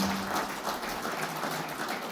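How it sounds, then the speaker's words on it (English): An audience at a cricket league player auction claps warmly, a continuous wash of many hands that stays steady and fairly loud across the whole moment, without speech. "let's hear a nice warm round of applause for the SLC"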